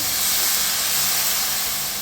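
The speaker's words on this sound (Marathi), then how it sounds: "थोडासा पाण्याचा हक्का देते" Water splashed onto a hot tawa while cooking cabbage pithla bursts into a loud, steady steaming hiss, close and continuous for two seconds.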